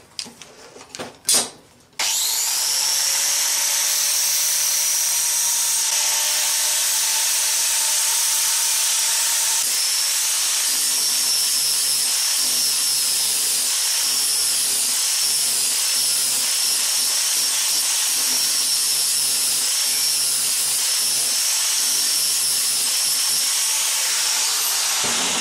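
A power sander works over the raw cut edge of a leather elbow-guard piece, a steady close hiss and whine running nearly unbroken for about 23 seconds after a brief clatter of handling.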